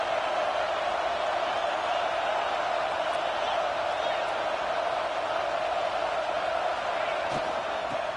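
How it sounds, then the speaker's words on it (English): Stadium crowd noise in College Football 26 during a late red zone stand, a steady, loud roar of massed voices sustained throughout without a break. "And here comes the noise. This crowd is trying to inspire this defense to make a big red zone stop."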